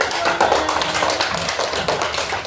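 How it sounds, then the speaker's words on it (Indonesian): A group claps hands together in a classroom learning session, a dense even burst of applause that holds steady for the whole stretch, close and fairly loud with no talk over it. "Tepuk tangan."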